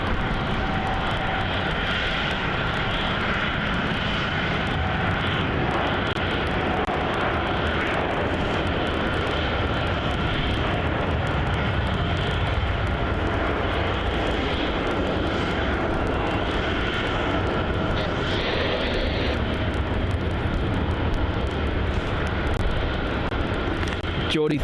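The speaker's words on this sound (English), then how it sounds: "787-8 rolling down runway 34 for a departure to Delhi" A Boeing 787-8 rolls down runway 34 at Melbourne Airport on departure to Delhi, its engines giving a steady, loud broadband roar that holds throughout, with a voice talking over it.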